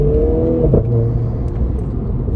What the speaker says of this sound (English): it gives it a bit more exhaust note, and holds the revs a lot higher